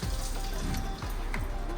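Water gushing and splashing steadily from a BMW M44 engine as its cylinder head is lifted off during a head gasket repair, a continuous close liquid rush with no talking.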